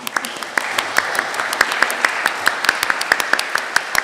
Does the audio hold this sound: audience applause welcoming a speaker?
yes